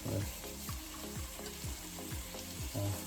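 Chicken tikka masala sizzling on a tawa pan while salt is mixed in, a soft frying hiss with a run of regular scraping stirs, fairly quiet and with no talking.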